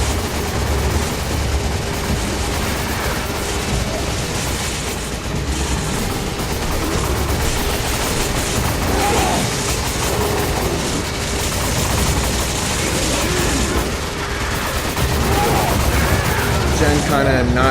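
Dense, continuous gunfire in the Resident Evil 5 video game, with rapid overlapping shots and bursts filling the whole stretch, loud and chaotic, while people talk over it.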